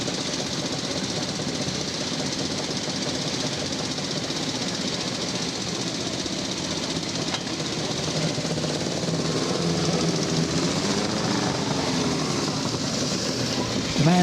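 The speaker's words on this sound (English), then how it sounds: "Indian Power Plus. There was such a quality bike in their day, 1921." A 1921 Indian Powerplus vintage motorcycle setting off on a club run, its engine running steadily with a knocking, chugging note that stays up close and continuous throughout.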